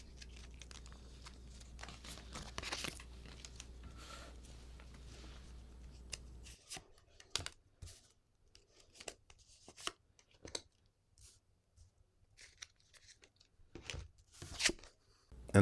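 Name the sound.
shuffling tarot cards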